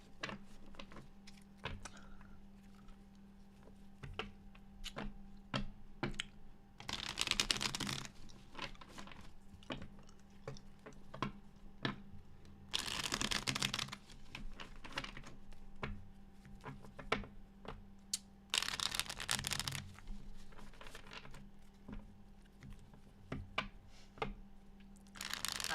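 Tarot cards are shuffled by hand in several short, loud riffling bursts, separated by quieter handling taps and a faint steady hum, with no talk.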